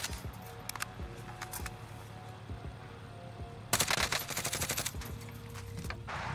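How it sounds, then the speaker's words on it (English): Automatic gunfire in a Warzone match: scattered single shots, then a dense, loud rattling burst of rapid fire in the middle, followed by more intermittent shots over a steady game background, with no talking. "I'm gonna hop and start shooting these guys here."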